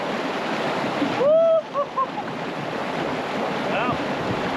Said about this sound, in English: This river shows me who's boss.